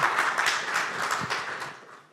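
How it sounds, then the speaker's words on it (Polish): Audience applause fills a hall during a Polish foundation event, a dense, steady wash of many clapping hands that stays fairly loud and continuous before thinning toward the end. "dziękuję za te brawa"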